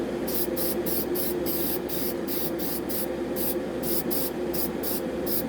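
Aerosol spray can coats both sides of plastic model kit sprues in a run of short bursts, a close, bright hissing that starts and stops about a dozen times in quick succession over a low steady background hum.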